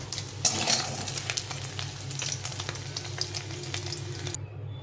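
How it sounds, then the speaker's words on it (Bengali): Homemade paneer fries in oil in a hot pan, a soft, fairly faint sizzle with occasional stirring scrapes that continues steadily before cutting off abruptly near the end. "পনিরটা ভাজা হয়ে গেছে, একটু ভেজে নিয়েছি, এখন উঠিয়ে নেব।"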